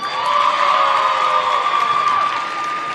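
A crowd at a high school basketball game cheers and applauds in a steady, dense roar of clapping, shouts and whoops that stays loud throughout.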